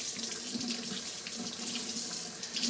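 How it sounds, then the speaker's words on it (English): A kitchen tap runs steadily into a sink while something is rinsed, a close, even splashing rush of water lasting a few seconds with no talking. "Rinse it out."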